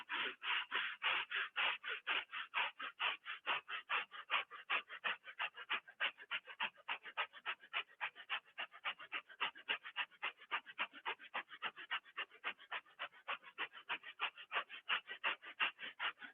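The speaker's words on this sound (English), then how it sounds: "Shallow breaths this time. Dragon's breath of fire through the nose only." Rapid, shallow breath-of-fire breathing through the nose during a qigong session, a fast, steady train of sharp nasal exhales pulsing evenly and close up for the whole stretch with no talk.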